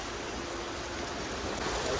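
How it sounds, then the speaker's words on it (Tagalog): Heavy rain pours in a dense, steady hiss of noise that fills the whole moment, loud and unbroken, with a voice faintly present beneath it. "Grabe nga ulan guys."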